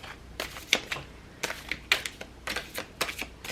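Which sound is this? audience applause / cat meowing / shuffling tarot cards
shuffling tarot cards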